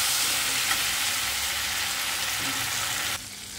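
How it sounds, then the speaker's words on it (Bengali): Bay leaf and cumin seeds fry in hot oil for a shrimp dish, giving a loud, continuous close-up sizzle with faint stirring, then dropping sharply near the end. "তেজপাতাটাকে একটু ভেজে নেব"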